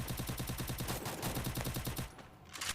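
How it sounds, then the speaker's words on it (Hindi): Gunfire in a shooter video game rattles in rapid, evenly spaced automatic bursts for about two seconds, drops briefly, then a final shot cracks out, loud and close. "वहीं से गोली चला रहा है वो"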